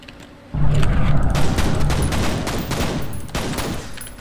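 Pistols in F.E.A.R. crack off in a quick flurry of shots after a quiet start, loud and close, with a booming reverberant tail rolling under the rapid reports.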